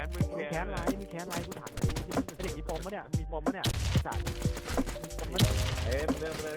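Gunfire rattles in the zombie survival game Warz as rapid cracking bursts and single shots, loud and close, under excited shouting from players, with thuds and clatter mixed in.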